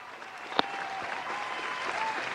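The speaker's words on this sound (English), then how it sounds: "Round of applause in there" A crowd clapping steadily at a moderate distance, dense applause filling the whole moment with one sharper clap standing out.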